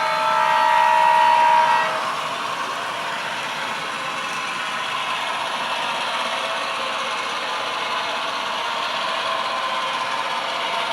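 Two Kato N gauge model locomotives run along a single loop of track with a steady whirring rumble and clatter, and a brief high tone sounds near the start.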